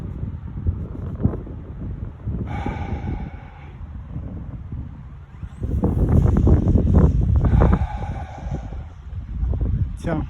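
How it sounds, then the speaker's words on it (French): Strong wind gusting across an airfield, buffeting the microphone in heavy low rumbles that swell louder halfway through, with a voice talking over the roar. "Ça souffle, hein, je peux vous dire que ça souffle."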